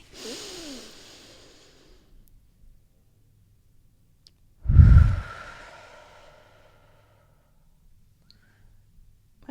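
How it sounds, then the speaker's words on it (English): One person takes a deep breath: a soft inhale near the start, then a single strong, close exhale midway, with quiet in between and no talking. "Let's take a deep breath, actually."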